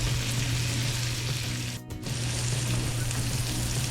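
Ribeye steaks sizzle and fry steadily in a hot pan, a close, continuous crackling hiss with a low hum beneath and a brief dip in the middle.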